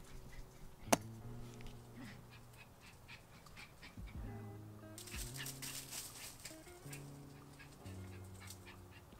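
A small dog barks outdoors at another dog, sharp yaps repeating irregularly at moderate distance amid faint background noise, with no talking.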